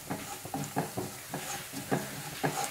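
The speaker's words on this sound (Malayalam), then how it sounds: "ഒന്ന് ഇളക്കി കൊടുക്കാം." Spiced dal curry is stirred in a pan with a soft rhythmic scraping, roughly twice per second, over a faint background sizzle.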